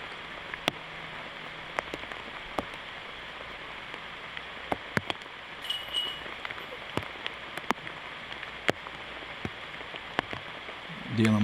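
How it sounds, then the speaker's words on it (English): Heavy rain falling on a disc golf course during the 2022 PDGA Masters Worlds, a steady hiss of rain with scattered sharp drips and taps, fairly faint and unbroken by talk. "when it's pouring down rain"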